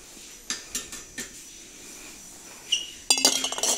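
A clear glass water carafe being handled, with several light clinks and taps near and distinct, ending in a brighter burst of glassy rattling.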